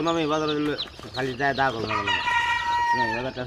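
Chickens cluck and a rooster crows loudly at close range among a street hawker's poultry, a steady run of calls and squawks filling the whole stretch.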